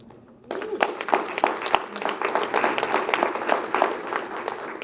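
An audience at a business meeting breaks into applause, a dense burst of many hands clapping that starts abruptly and keeps going steadily.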